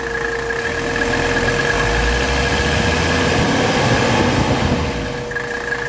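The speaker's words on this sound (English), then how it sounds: "this engine is running incredibly smooth." A 1985 Mercedes 300CD engine idles smoothly and steadily, a continuous close mechanical hum with an even drone and faint tonal whine holding for several seconds, no talking.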